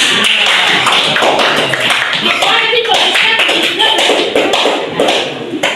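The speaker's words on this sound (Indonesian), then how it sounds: "tepuk tangan buat Dimas." Loud, dense applause from a crowd, steady clapping throughout with no letup.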